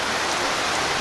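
Steady, dense rain pours down at an inland resort in Tagum, Davao del Norte, Philippines, filling the air with an even hiss and patter with no breaks and no voices.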